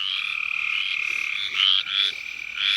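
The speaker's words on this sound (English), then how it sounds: "You can hear all of the Copes gray tree frogs calling." A chorus of Cope's gray tree frogs calling at a breeding site in South Carolina, dense overlapping trills that pulse and swell in loud bursts over a constant background din, with no talking.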